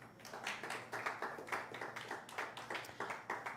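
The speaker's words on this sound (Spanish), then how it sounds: "Vamos a aplauso al Señor" Congregation clapping in a church service, a dense, steady run of hand claps lasting throughout at moderate level with no voices over it.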